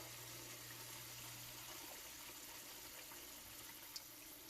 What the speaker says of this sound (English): So I'm gonna add a little bit more water just to make sure the vegetable is soft enough.